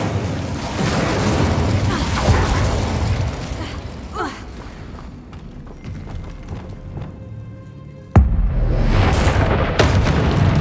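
A fire spell cast in Hogwarts Legacy on PS5: a loud booming burst of flame with rumbling low crackle, fading, then a second sharp burst near the end.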